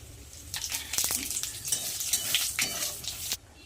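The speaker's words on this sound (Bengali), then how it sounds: "এই কড়াইয়ের মধ্যে দিয়ে দেবো তেল দিয়ে দেবো গোটা এলাচ দারচিনি গোটা জিরে তেজপাতা" Whole cardamom, cinnamon, cumin seeds and bay leaves frying in oil in a wok, a steady close sizzle with scattered crackles and pops, ending abruptly.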